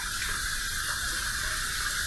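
Hot water runs steadily from a tap to warm an aluminum safety razor, a constant close hiss with no talk.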